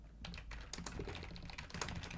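Steady typing on a computer keyboard while editing text in Vim, a quick run of close, crisp key clicks with no talk.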